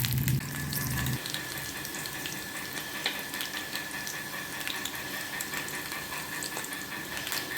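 Cumin and mustard seeds sizzle in hot oil while potato palya is prepared, a steady close crackling frying hiss that runs on after a brief low rumble at the start.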